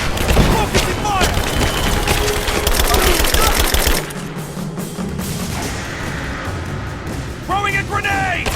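Rapid bursts of gunfire rattle through a firefight in the video game Rise of the Tomb Raider, loud and dense for several seconds before easing into scattered shots and crunchy impacts.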